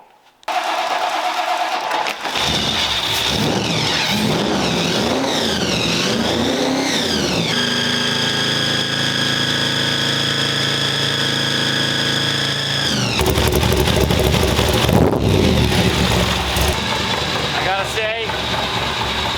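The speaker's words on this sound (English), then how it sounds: "You gotta hear the sound, and this is what I hope will get younger generations to get into cars when you hear the blower whine." A supercharged car engine runs loud and close, with a high blower whine riding over the idle, rising and falling as the engine revs, then settling into a sustained, steady howl before roaring again.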